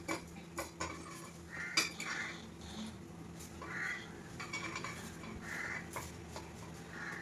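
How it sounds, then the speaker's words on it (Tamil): A metal dosa turner is washed in a home kitchen: light clinks and taps of metal against dishes, with brief splashy rubbing bursts, fairly quiet and close, with no talk. "ஏன்னா இப்போ நான் தோசை திருப்பியை கழுவ போகிறேன்."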